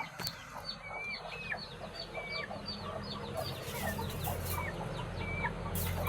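Jersey Giant chicks and chickens cluck and peep nearby over a constant background hum, a busy scatter of short calls throughout.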